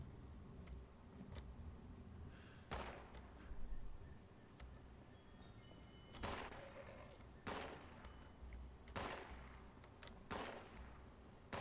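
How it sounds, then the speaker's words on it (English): Gunfire in Fallout 76, several sharp distant shots spaced a few seconds apart, the last ones in a quick pair, each with a short echoing tail over a steady ambient background. "Somebody is shooting out there."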